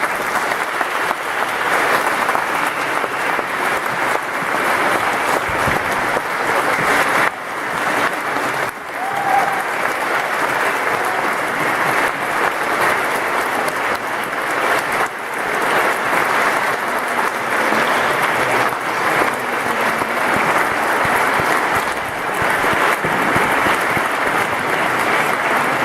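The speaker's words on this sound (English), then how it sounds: "I refuse to interrupt the applause because they deserve every moment of it" Long, sustained applause from a large audience after a speech, dense and even clapping that holds at a steady loudness throughout with no one speaking.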